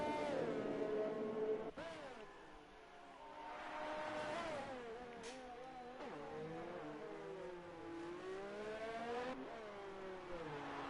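Lapped race cars passing on the Monaco street circuit in a racing video game, several engines whining and revving as cars sweep by, fairly faint with a voice talking over them.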